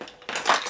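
Metal teaspoons and other cutlery clink and jangle together close by, a quiet rattle followed by a brighter, louder clatter of spoons knocking against each other.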